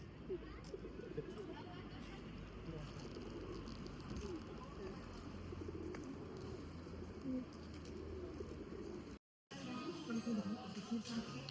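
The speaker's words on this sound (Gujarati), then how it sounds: "જો કેટલા બધા કબૂતર છે." Pigeons cooing at an outdoor feeding spot where grain is scattered, low steady coos running under constant crowd and street noise, with a short dropout near the end.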